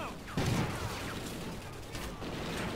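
A single sharp shotgun blast in the video game Call of Duty: Ghosts, with game noise continuing around it.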